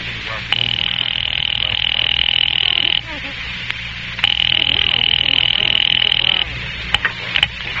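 Old-style telephone bell ringing in a radio drama, two long trilling rings separated by a pause, loud and close with no talk over it.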